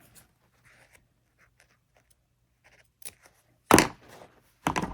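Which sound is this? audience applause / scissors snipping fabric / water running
scissors snipping fabric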